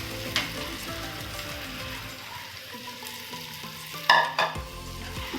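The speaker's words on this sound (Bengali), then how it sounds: "ভেজে রাখা আলুগুলো আমি এখানে অ্যাড করে দেব" Fried potatoes tipped into oily cooked-down masala for a cashew prawn curry, a continuous close sizzle with stirring scrapes and a louder clatter of the potatoes going in near the end, without speech.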